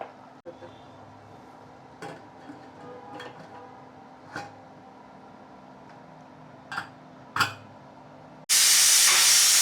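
A pressure cooker cooking tomato bath lets out a sudden loud, steady hiss of its whistle near the end, after quiet kitchen sounds with a few soft clinks and taps.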